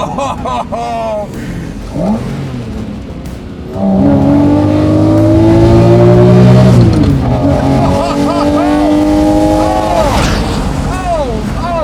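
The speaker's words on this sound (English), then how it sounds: "Okay. That's a Lamborghini." A Lamborghini Murcielago engine roars loud and close, a deep harmonic howl that swells into sustained high revs after a quieter start, with excited voices talking over it.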